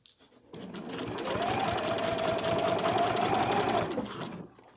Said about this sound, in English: sew that pocket in place